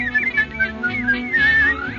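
A person whistles a bright, lilting melody in a radio drama of Snow White, the clear tune carrying over soft background music.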